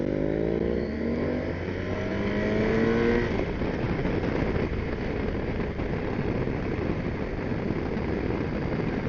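A truck passes on a mountain road with a loud, rumbling engine and a rising whine early on, then broad steady road roar that fills the rest of the pass without fading.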